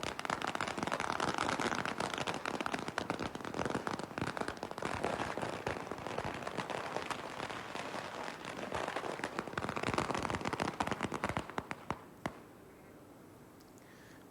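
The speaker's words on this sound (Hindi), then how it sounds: "इसी खुशी में जो लोग हैं वो भी लाइसेंस मिलने के लिए पटाखे फूटते हुए" Firecrackers burst in celebration at Maa Mahamaya Airport after the airport received its aviation licence. Dense, rapid crackling runs almost nonstop and loud for most of the stretch, then thins to a few scattered pops near the end.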